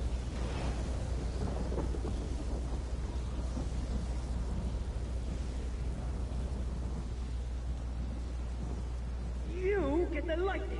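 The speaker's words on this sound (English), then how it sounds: "Now you get the lightning." Thunder rolls and rumbles in Elder Scrolls Online, a long deep crackling roar under steady noise like rain, with a brief higher sound near the end and no clear talk.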